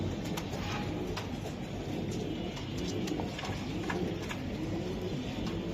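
Soft, low cooing from a female racing pigeon held close, a continuous murmuring drone with faint clicks and light background noise throughout.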